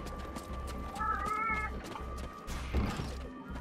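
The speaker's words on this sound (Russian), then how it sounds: "Так, кот, не кричи." A house cat meowing loudly, one drawn-out wavering meow near the middle, over steady rhythmic background noise, close and clear.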